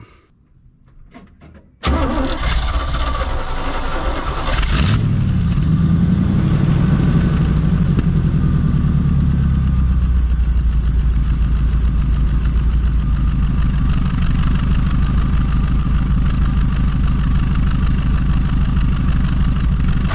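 A 1966 Chevy one-ton truck engine, left sitting for 15 years, cranks briefly and catches, then settles into a loud, steady, rough idle that rumbles on without a break.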